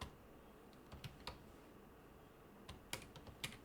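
Faint, sparse keystrokes on a computer keyboard, a few scattered clicks in short bursts with pauses between them, in a quiet room with no voices.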